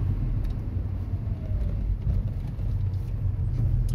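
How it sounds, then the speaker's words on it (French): A Citroën Xsara VTS engine rumbles steadily at about 1000 rpm inside the cabin, a constant deep droning hum with slight irregular bumps from injection hiccups. "il y a toujours un peu ces petits hoquets d'injection à très très bas régime"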